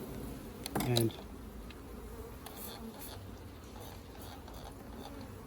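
Honey bees buzz around a hive during an inspection, a faint, steady hum that runs throughout, with a brief louder knock and murmur of a voice near the start.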